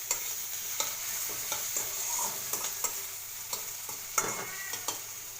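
Prawns frying in a pan for prawn do-pyaza make a soft, steady sizzle with a scattering of light stirring clicks and scrapes, quiet and close with no talk.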